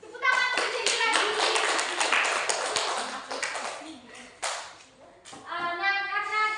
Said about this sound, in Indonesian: Tepuk tangan untuk Jelly lagi.